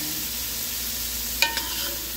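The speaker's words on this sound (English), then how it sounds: "You got to keep stirring the root." Roux being stirred steadily in a pot for a chicken, sausage and tasso sauce piquante, a soft continuous scraping hiss with a couple of brief louder scrapes near the end.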